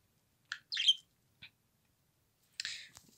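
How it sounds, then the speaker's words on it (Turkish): A pet budgerigar gives a few short, sharp chirps and squeaky calls in separate bursts close by, with quiet pauses in between. "Gici Kuşum, gel buraya"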